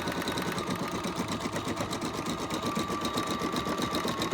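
A Bernina 630/640 embroidery machine stitches out a name, its needle hammering in a fast, steady mechanical rhythm with a constant motor whine, close and unbroken throughout with no talking.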